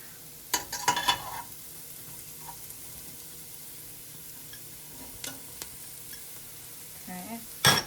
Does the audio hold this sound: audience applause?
no